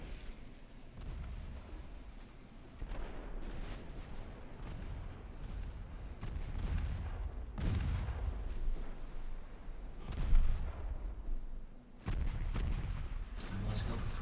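Heavy warship main guns fire in the naval combat game Ultimate Admiral Dreadnoughts, booming salvos and thuds rising out of a continuous battle rumble, several loud blasts spaced across the stretch with noisy low-end roar between.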